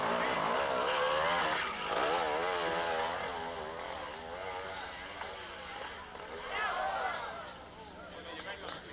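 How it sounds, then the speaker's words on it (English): GasGas trials motorcycle working through an observed trials section at a World Observed Trials Championship round in Bodines, Pennsylvania, its engine revving up and down in short bursts while a commentator talks over it. "Andrew Codina from Spain riding the Gas."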